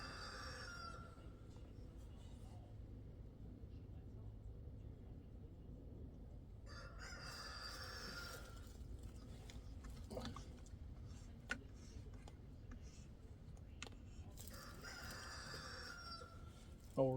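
A rooster crows a few times in the distance, each call a brief bright burst, over a steady low background rumble.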